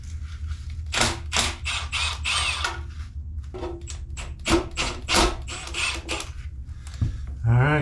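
A ratchet working loose the oil pan bolts on a Pontiac 350 V8 engine during teardown, giving bursts of sharp close clicking and clattering strokes separated by short pauses.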